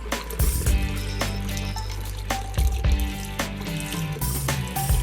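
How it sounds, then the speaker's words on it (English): Beef broth pouring into a pressure cooker, a continuous liquid splashing and trickling sound with a few clunks and drips, close and fairly quiet. "And I'm gonna add my beef broth."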